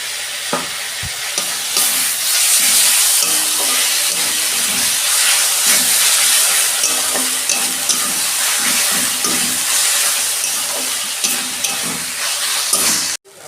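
Two big spoonfuls of ginger-garlic paste frying for a Bengali chicken curry, a loud continuous sizzle and steamy hiss with intermittent stirring clatter close by, ending abruptly.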